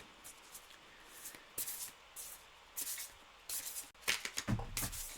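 Cards, apparently a reading deck, are shuffled in repeated short riffling bursts separated by brief pauses, close and fairly quiet, with no talk.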